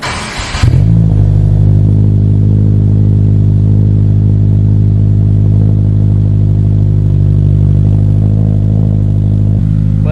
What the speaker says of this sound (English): let's go ahead and start the car and see how it sounds